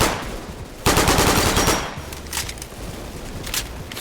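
Burst of rapid automatic fire from a gun in a shooting video game, loud and sharp, followed by a few scattered quieter shots.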